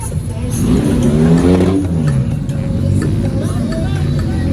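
A car engine revs loudly at a casual car meet among friends where a Mazda is on show, the rising engine note running through the whole clip with people talking nearby.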